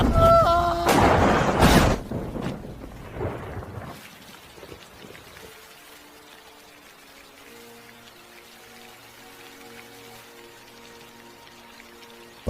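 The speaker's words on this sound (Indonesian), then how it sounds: "Di bawah air hujan dan petir yang menyambar-nyambar" A storm scene in a film opens with a loud, booming crack of thunder lasting about two seconds. Steady rain then hisses softly under quiet music for the rest of the scene.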